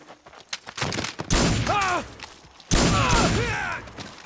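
Gunfire from the Metal Gear Solid 3 video game: two loud bursts of shots with whooshing, whistling ricochet-like tones, near and dominant, with faint game sounds between.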